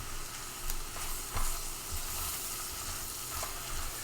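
Onions frying in a pan while cooking alongside a dry aged steak dish, a steady close sizzle throughout with a few soft pops and stirring bumps, no talking.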